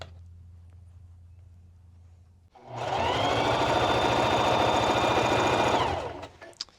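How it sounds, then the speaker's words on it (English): A serger sewing a stretch stitch on a dress starts up after a quiet hum, running fast and loud with a steady whirring, buzzing motor for about three seconds before winding down. "I'm just going straight in for that stretch stitch and finishing it off with a serger"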